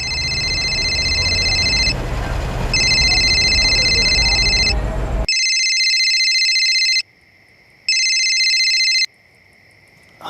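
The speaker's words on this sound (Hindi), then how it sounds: "आप गोवर्धन चाचा को फोन लगाइए ना।" A telephone rings in repeated electronic bursts, first over a loud rushing background, then in near silence with short gaps between rings.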